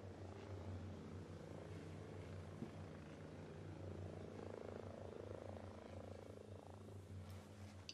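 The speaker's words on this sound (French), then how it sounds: "Hélicoptère en approche. Hélicoptère." Helicopter rotor drone in the Ghost Recon Breakpoint video game, a steady low thrumming hum that holds throughout as the aircraft passes, fairly faint under a busy game ambience.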